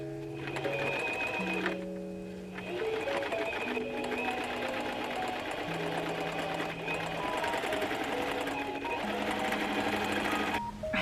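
A sewing machine stitches pinned fabric in a steady, continuous whir with shifting motor pitch as it speeds up and slows, running alone for the whole stretch without talk.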